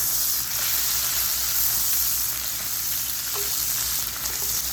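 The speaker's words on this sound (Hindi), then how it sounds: "जो टमाटर है मेरे पास वो इसके अंदर शामिल कर दूँगी।" Tomatoes sizzling and frying in hot oil in a pan while Lahori chickpea curry with black pepper is cooked, a steady loud hiss throughout with a faint clink near the end.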